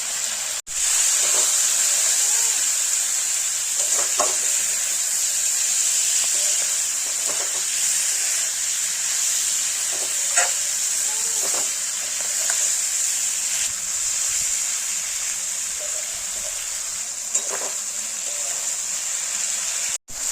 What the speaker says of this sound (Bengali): একটু মাংসটা ভাজা ভাজা হয়ে গেছে